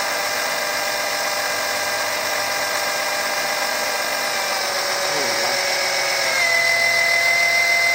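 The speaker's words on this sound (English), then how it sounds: "Hear the pump change volumes." A Honda HRX217 lawnmower engine runs steadily at close range with a high mechanical whine, its pitch and volume shifting partway through as the oil pump changes volume.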